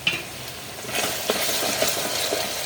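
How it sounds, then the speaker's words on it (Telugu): Onions and green chillies sauté for an egg curry, giving a loud, close, steady sizzle broken by a few stirring scrapes. "చక్కగా ఉల్లిపాయలు దగ్గరికి మగ్గుతున్నాయండి"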